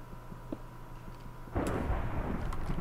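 Thunder rolls in during Minecraft play in a cave, a low rumbling swell that rises suddenly midway and keeps churning to the end, moderately loud.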